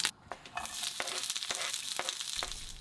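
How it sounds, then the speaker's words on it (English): Onions frying in a decent slosh of oil in a hot pan, a dense continuous sizzle with periodic crackles and utensil taps at roughly half-second intervals, close and fairly quiet. "just put a decent slosh of oil in for the onions"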